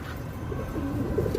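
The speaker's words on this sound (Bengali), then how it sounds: "খুব সুন্দর সুন্দর ব্রিডিংয়ের কবুতর আছে আমাদের কাছে" Breeding pigeons coo softly nearby, with a few low, rolling calls rising over a quiet background hum.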